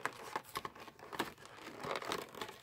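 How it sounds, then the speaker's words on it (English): A glued cardboard Pokémon TCG Pikachu Sidekick collection box being ripped open by hand, with close, loud bursts of tearing and crinkling cardboard and packaging in an uneven series. "Alright, I'm just gonna rip it apart."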